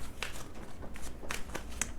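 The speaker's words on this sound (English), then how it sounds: "I do like to shuffle with you a little bit on camera." Tarot cards are shuffled by hand in soft, irregular riffling flutters and light taps, quiet and close, with no voices.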